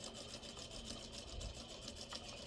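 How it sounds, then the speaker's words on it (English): A sewing machine runs steadily while stitching a curved collar stand, its fast rhythmic whir continuous and close throughout. "turn it quick and pull as you sew"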